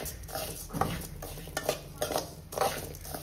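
Ingredients being dry-roasted and stirred in a pan over a low flame, with soft repeated scraping and stirring strokes and a faint sizzle, close and fairly quiet, with no talking.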